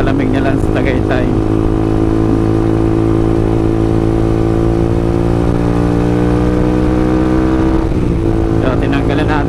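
Honda CBR150 motorcycle engine with its silencer removed, running steadily for about nine seconds with a loud, raw drone and a brief throttle blip near the end, while people talk over it.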